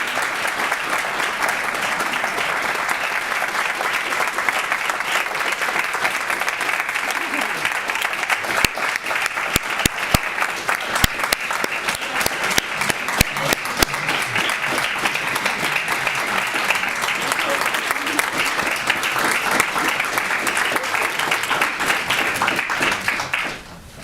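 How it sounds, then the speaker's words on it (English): An audience applauds after a mayor's swearing-in ceremony, a dense, sustained round of clapping that holds steady for over twenty seconds, then stops abruptly. "I think you can tell from the applause"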